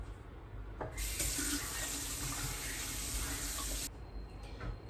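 Hands are washed under a running tap: a steady, close rush of water lasts about three seconds and then shuts off, over a quiet room.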